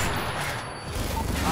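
Turret gunfire from Call of Duty MW3 in multiplayer, a dense continuous fusillade of rapid shots that holds steady for the whole stretch, loud and close.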